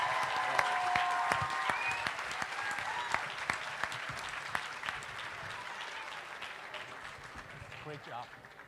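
A big round of applause for two debaters at a state civics and debate championship, continuous crowd clapping in a hall with occasional sharper claps and faint talk mixed in, easing off slightly toward the end.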